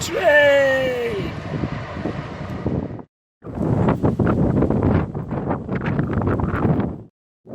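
Strong wind buffets the microphone outdoors by a marina, a loud, steady rushing roar that drops out briefly in the middle. A voice speaks over it at the start.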